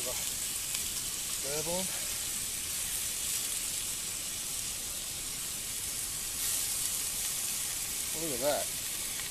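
Meat and onion sizzle and fry over a campfire with a steady crackling hiss, close and continuous, while someone speaks briefly a couple of times.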